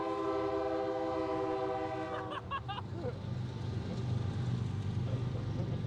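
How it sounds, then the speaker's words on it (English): A train rolls past outside a skateboarding spot, its horn sounding in sustained tones before giving way to a loud, steady rumble of wheels and cars that continues to the end. "We'll just wait for the train."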